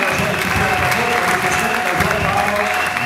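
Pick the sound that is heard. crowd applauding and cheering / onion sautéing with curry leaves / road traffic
crowd applauding and cheering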